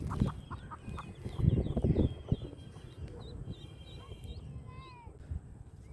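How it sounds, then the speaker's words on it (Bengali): A hen with a brood of ducklings outdoors: soft clucks and thin, high peeping calls repeat through the clip over a low background rumble, moderately quiet and fairly close. "মুরগি মায়ের সাথে হাঁসের ছানারা ঘুরে বেড়াচ্ছে।"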